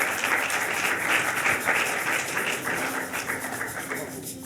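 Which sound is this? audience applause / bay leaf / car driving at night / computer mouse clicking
audience applause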